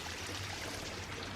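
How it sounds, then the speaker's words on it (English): Water flowing at the Emerald Pools in Zion National Park, a soft, continuous broadband rush of a small stream or fountain, steady and fairly faint, with no voices. "It's water flow."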